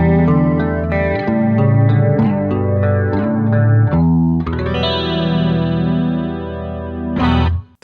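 Clean electric guitar played through a Roland Jazz Chorus amp, a run of ringing chords and picked notes with shimmering chorus and a sustained strum near the end, loud and close with no talking.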